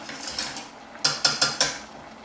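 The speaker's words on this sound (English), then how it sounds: "Give it another good stir" Thick lasagne sauce stirred in a pan on the hob, a soft scraping swirl followed by four quick metallic clinks of the utensil against the pan.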